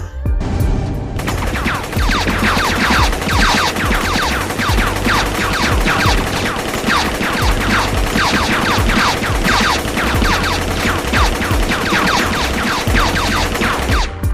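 Dense, relentless bursts of rapid gunfire from a Telugu film scene fill the whole stretch, loud and continuous like a heavy firefight, with no pauses and no talking.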